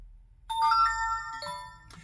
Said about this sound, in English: Still getting the notifications, of course.